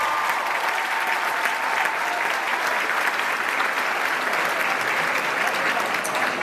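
Graduation audience applause, dense sustained clapping from a large crowd, even and continuous throughout without talk.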